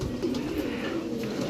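Low, rolling coos from pigeons kept for flying, a continuous murmur close by with no voices over it.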